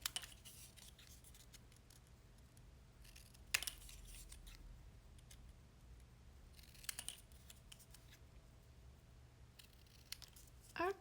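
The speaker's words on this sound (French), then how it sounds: "je vais découper au ciseau" Scissors cutting thick paper for a travel album, a few brief crisp snips and crunching cuts separated by quiet pauses, close and faint against low background hum.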